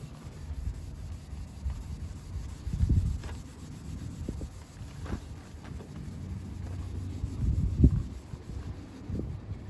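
A terry cloth bath towel rubs paint cleaner onto an old automobile's paintwork, producing soft, low, close swishing strokes that swell and fade in an uneven rhythm, without speech.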